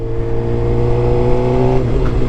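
A Suzuki GSX-R motorcycle exhaust revving loudly and steadily up close, with a strong droning engine tone that rises slightly toward the end and a faint crackle near the finish.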